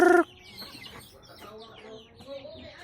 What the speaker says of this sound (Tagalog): Ito lahat yung mga manok ko.